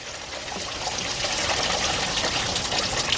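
Antifreeze gushes and splashes out of the engine bay of a 2003 Jeep Liberty Sport 3.7 as its water pump is pulled, a continuous close watery rush into a drain pan with no talking.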